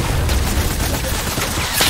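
Fortnite gunfire in an Arena Duos match crackles as a dense, continuous burst of rapid shots over the whole moment, loud and close with no clear pauses.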